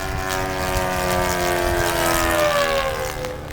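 A model warbird airplane's engine roars steadily during a takeoff at a war bird racing event in Chino Valley, a loud rising drone with no talk.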